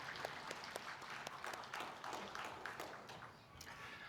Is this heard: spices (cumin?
no